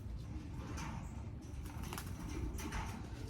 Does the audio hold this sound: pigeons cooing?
yes